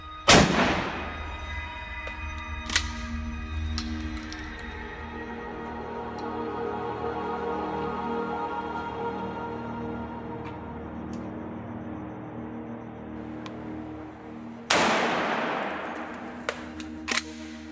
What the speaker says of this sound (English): we can shoot from the inside towards the outside, hitting any enemy that we might have